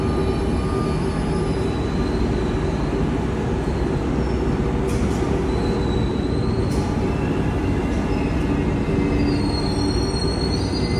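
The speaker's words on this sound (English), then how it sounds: "This is a long train." A long train rolls steadily past nearby on the way to the Eiffel Tower in Paris, with a constant loud rumble of wheels on rails and faint high squeals over the whole stretch. No one speaks.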